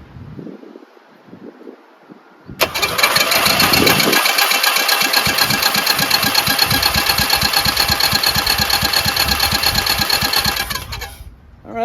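A rebuilt Briggs & Stratton 14hp engine with a synchro balancer fires up after a few soft handling noises and runs loud and steady at a fast, even idle for about eight seconds before cutting off.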